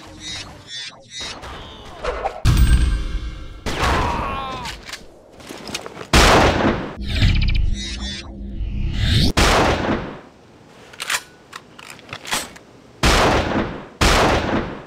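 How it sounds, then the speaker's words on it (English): A double-barrelled hunting gun in the first-person shooter XIII fires several loud, sharp blasts spaced irregularly apart, each cracking out over game ambience, with someone talking in between. "The biggest problem with the hunting gun is the nonsense delay between firing each barrel"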